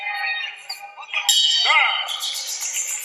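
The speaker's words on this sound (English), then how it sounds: "the bell coming at the right time for Luis Tavares." Bell ending a round in a GLORY 62 kickboxing fight, several bright metallic dings ringing over loud arena crowd noise and commentary.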